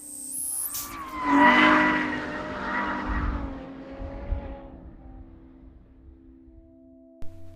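A Ferrari F12 with a 6.2-litre V12 squeals and skids its tyres, a loud rising screech with engine roar that swells early, then slowly fades, with a short sharp knock near the end.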